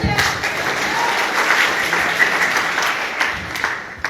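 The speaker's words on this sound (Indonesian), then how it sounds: "berikan aplaus yang meriah" Enthusiastic applause from an audience at an Indonesian training seminar in Kupang, steady and dense clapping filling the whole stretch at close range.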